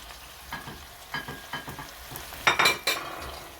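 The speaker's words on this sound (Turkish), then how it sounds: "Ve güzelce karıştıracağız." A spoon stirs potatoes and eggplant in a stew pot, giving a series of scraping, clinking strokes against the pot over a soft sizzle, the last few louder and quicker.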